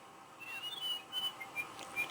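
A whistle effect from the Nintendo DSi sound app: a thin, high whistled tone that sweeps and warbles in short bursts for about two seconds, quiet and alone.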